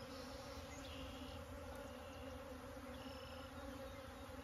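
Honey bees hum steadily from close by as they crawl through the grass in front of their hives, drinking water off the blades, a continuous soft insect drone with no voices.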